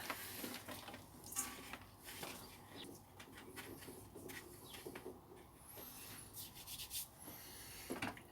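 A pot of compost for Tetrapanax propagation is shaken to settle the mix, giving repeated gritty rustling and scraping bursts close by, with no talking.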